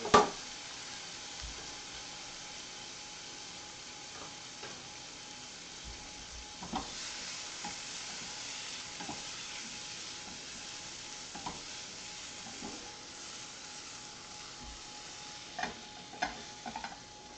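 Steak fries in a pan with a soft, steady sizzle and occasional light clicks and stirring taps, heard on its own at low level.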